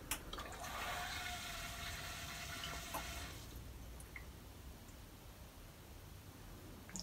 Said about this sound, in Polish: słyszę, że już w buforze się woda powietrze pojawiło.